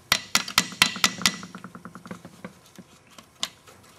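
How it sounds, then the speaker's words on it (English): Quick metallic hammer taps on a Briggs and Stratton Quantum engine rod cap, about half a dozen rapid hits close by, then lighter scattered clinks fading off with one final tap. "This guy might need some help with a hammer."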